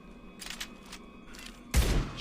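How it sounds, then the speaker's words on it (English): A shotgun blast from the Mass Effect 2 video game, a single sudden boom that rings out briefly after quieter bursts of in-game gunfire and ambient noise. "Shotgun!"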